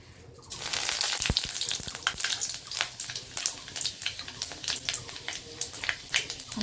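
Hot oil in a wok crackling as spices go in, a sudden burst of sizzle that settles into steady spitting with a few sharp pops and stirring clicks, up close and without talk.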